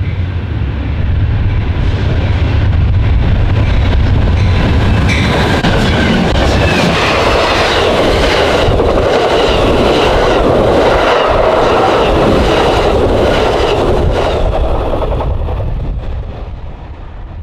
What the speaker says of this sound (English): we encounter Amtrak California ZEPHYR No. 5, which is bound for a final destination of San Francisco, California